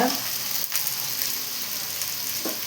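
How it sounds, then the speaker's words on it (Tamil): Vegetables such as chayote and beans being sautéed in a pan for avial, producing a steady, close hiss of frying with a couple of faint stirring scrapes and no voices. "நல்லா வதக்கிடலாம் பீன்ஸ் போடலாம் நல்லா வதக்கலாம்"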